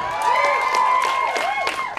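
An audience at a fan convention applauds and cheers in a sustained wash of clapping with scattered whoops, fairly loud and even throughout.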